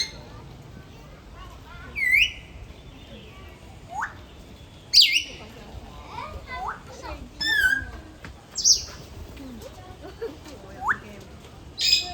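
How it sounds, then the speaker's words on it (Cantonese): Birds in Seac Pai Van Country Park, Macau, giving short scattered chirps and whistled calls at intervals over a quiet, faintly murmuring background. "咁例如有好多種嘅雀鳥啦"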